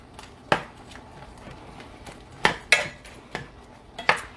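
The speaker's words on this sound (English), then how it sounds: "Give this a stir" Shrimp scampi being stirred in a pan: a spoon clanks sharply against the metal several times at irregular moments, with quiet scraping between knocks.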